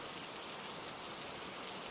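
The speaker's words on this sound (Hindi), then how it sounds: "सिर्फ बारिश की आवाज गूंज रही थी।" Steady rainfall as a sound effect in an animated Hindi horror story about a haunted house: a dense, even hiss of falling rain with no breaks, fairly close and alone.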